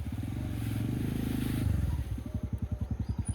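A TVS motorcycle running during a bike test, with a loud engine drone that settles into a rapid, even thumping idle rhythm close by.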